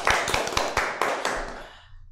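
A handful of separate hand claps ring out in a steady rhythm for quiz winners, close and fairly loud, then trail off into a fading room echo.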